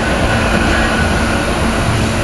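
Loud, steady rumble and rolling rail noise of a commuter train with rail cars pulling out of Temple University station, continuous through the clip with a faint high squeal above.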